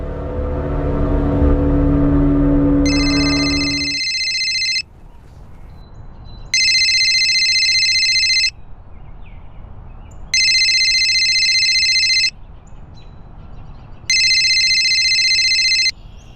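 A phone rings in four evenly spaced electronic bursts, bright and repetitive, over a low background rumble after some initial noise.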